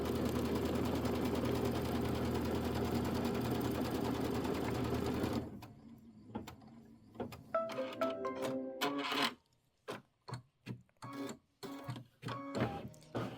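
An embroidery machine stitches out a quilt block design with a steady, close, rapid mechanical hum that runs for several seconds, then stops and gives way to intermittent clicks and short whirring bursts.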